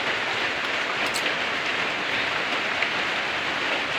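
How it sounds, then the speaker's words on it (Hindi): Heavy rain pours down steadily and close by, a dense, even hiss of drops with no voices over it. "बारिश बहुत हो रही है"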